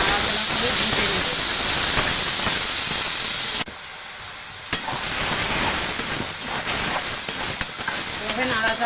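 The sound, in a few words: korma ingredients with salt and turmeric stir-frying in pan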